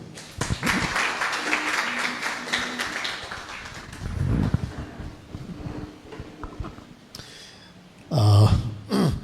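A church congregation claps while sitting down: a burst of quick, crowded claps at first that thins out and fades, followed by shuffling, throat-clearing and scattered noises nearby.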